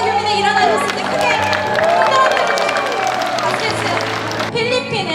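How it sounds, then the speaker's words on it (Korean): An audience at an international gathering bursts into applause and cheering, a dense crowd roar of claps and voices lasting several seconds with a louder voice ringing out over it. "박수."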